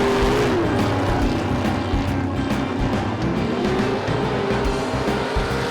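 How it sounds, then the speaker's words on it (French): A race car heating its tires before a qualifying run, its engine roaring loud and close in a continuous, rough drone with a rising and falling pitch and a faint squeal of rubber. "Il chauffe les pneus et gagne la manche de qualification."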